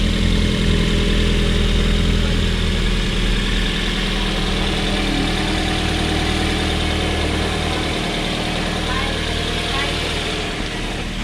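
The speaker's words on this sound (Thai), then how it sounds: "ทำการสตาร์ทเครื่องแล้วนะครับ" A 2009 Toyota Altis car engine idles at a loud, steady rumble that holds unchanged from start to finish.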